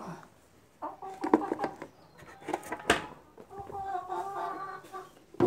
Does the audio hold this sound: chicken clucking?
yes